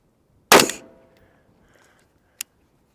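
A single sharp gunshot from either a Smith & Wesson FPC or an AR pistol at an outdoor range, loud and close, with a ringing decay and a faint distant ping of a steel target about two seconds later.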